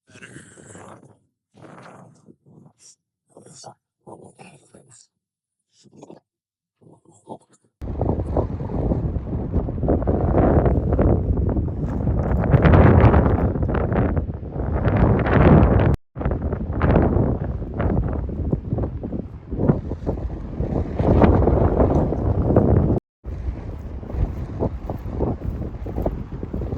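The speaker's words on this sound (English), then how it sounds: "Pretty windy up here today" Strong wind gusts across an exposed hilltop in the Porcupine Hills, roaring and buffeting close to the microphone with sharp cut-outs, after a quiet opening stretch of faint patchy sounds.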